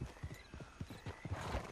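Hooves clip-clop in a steady rhythm as a horse is ridden in Red Dead Online, close and fairly faint, with a brief whinny and soft game ambience behind.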